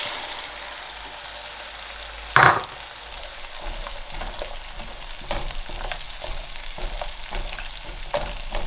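Eggs frying in a pan with leftover salty bacon fat during a breakfast fried rice, a steady close sizzle with a sharp clatter near the start and light scraping and stirring throughout, no voices.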